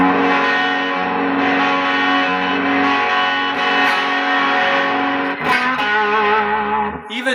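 A heavily distorted electric guitar chord through a fuzz pedal rings out thick and fuzzy, sustaining loudly, then a second strum cuts in near the end.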